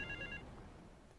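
A payphone in the video game GTA III gives a short, faint electronic trill ring that cuts off quickly, leaving a low, steady rumble of game traffic.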